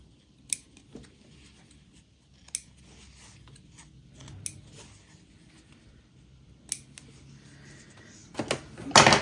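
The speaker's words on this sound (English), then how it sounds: "I'm just going to cut the thread and then I'm going to cut it where they're joined" Scissors snip quilting thread in a quiet room: several short, crisp cuts spaced a couple of seconds apart, then a quicker cluster of louder snips and rustling at the end, close by and without speech.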